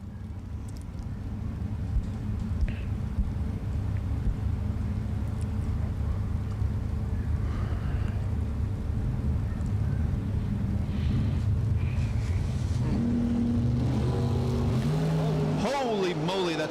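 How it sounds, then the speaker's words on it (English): A bracket racing drag car roars loudly and steadily at the strip, its engine note climbing and sweeping upward near the end as it launches into a wheel stand. "J.P. Britt about to do a wheel stand for us."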